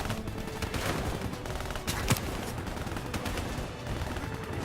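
Dense gunfire from a battle in the video game Black Ops 3, with rapid overlapping shots, a few louder cracks and a steady roar of combat close up, with no voices.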